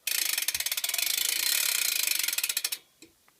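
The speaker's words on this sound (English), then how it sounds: "Quick hub sound, very crisp hub." The crisp freewheel ratchet of a BMX bike's rear hub on a Cult OS custom build clicks in a rapid, dense buzz of ticks for nearly three seconds, close and loud, then slows and stops with a few stray clicks.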